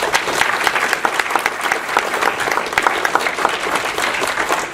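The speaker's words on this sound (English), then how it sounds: "Let's give her a big round of applause" Town hall audience in Sault Sainte Marie gives a dense, sustained round of applause, loud and continuous throughout.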